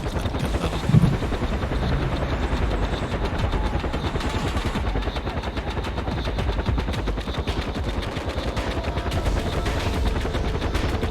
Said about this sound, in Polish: Tu jest helikopter, ale co? O tym, o tym leci posiłki.